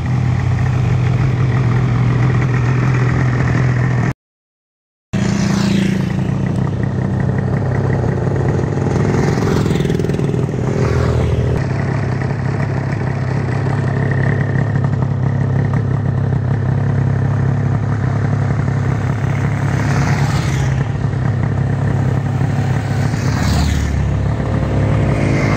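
A Yamaha RD500 motorcycle idles loudly up close at a classic ride departure with the Real Moto Club Gipuzkoa, then revs and pulls away, with other engines rumbling around it.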